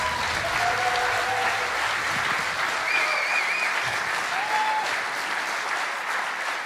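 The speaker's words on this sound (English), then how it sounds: "Another round of applause, please." A large audience applauds steadily for the 2015 FIFA Interactive World Cup champion at the grand final event, a dense, loud wash of clapping with faint crowd voices mixed in throughout.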